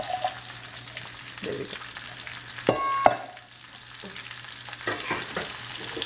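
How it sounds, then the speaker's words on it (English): Lots of onions sautéing on low heat in a pan, a steady soft sizzle with scraping stirs and a couple of sharp utensil clanks midway, and a brief spoken remark near the start. "Just saute them, let them mix."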